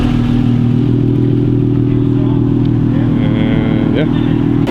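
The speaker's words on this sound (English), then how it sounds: "We're on our first test drive with a new exhaust setup" A car with a new Kromer Kraft exhaust setup drones steadily on a test drive, a loud, low, continuous exhaust rumble with cabin clatter throughout.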